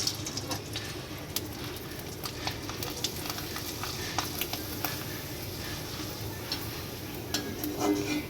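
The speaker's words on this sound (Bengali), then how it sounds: "সাবুর পাপড় আর দুটোই সাবুর পাপড় এটা ভেজে নেব" Sago papad frying in hot oil in a home kitchen, a dense continuous close crackle and sizzle with scattered sharp pops throughout and a louder burst near the end.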